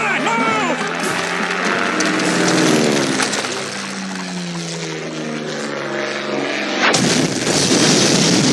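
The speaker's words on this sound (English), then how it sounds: "There's a bomb strapped to my chest! It's gonna explode in 3 seconds unless you take a bath!" A loud cartoon bomb blast from SpongeBob SquarePants, booming with heavy rumbling bursts and sweeping tones for several seconds, ending in a sharp final crash.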